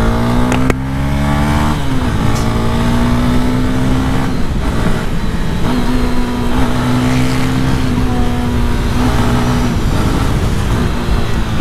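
A 2021 Honda CB Twister motorcycle revs and pulls away, its engine note climbing and dropping as the rider shifts through gears, loud and close with no speech.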